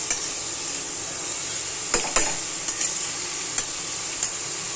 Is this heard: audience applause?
no